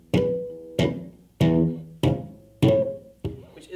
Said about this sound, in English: Otherwise, you'll just get a dead note that sounds like this.